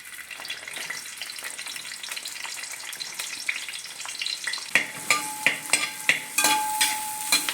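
Shallots frying in coconut oil, first a soft steady sizzle, then louder crackling pops and stirring bursts in an uneven rhythm near the end.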